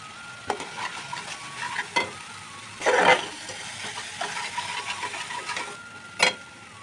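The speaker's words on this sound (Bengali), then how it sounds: "এরপরে মশলাগুলো ভালো করে কষে নিতে হবে।" Ground spices for a Bengali prawn malai curry stir-fried in a pan, with steady frying sizzle and repeated scraping strokes of a spatula, a louder burst of stirring midway, no talk.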